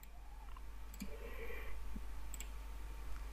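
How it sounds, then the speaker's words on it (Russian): A few crisp mouse clicks, faint and close, as a button is pressed in the Joomla editor while inserting code, with quiet room tone in between. "мы кликаем по этой кнопочке «Вставить код»"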